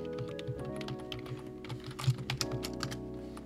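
Rapid keystrokes on a computer keyboard while working in Roblox Studio, a steady run of close, crisp clicks with a slightly busier flurry near the end.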